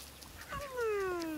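A cat meows once near a garden where chickens and ducks are being fed. The drawn-out call glides downward, rising in loudness, clear and close with no talking.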